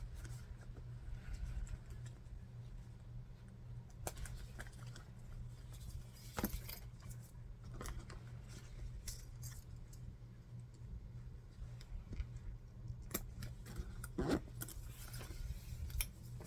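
Metal clips clicking and jingling as a strap is attached to a small leather shoulder bag, scattered light clinks close up over a low steady hum, no talk.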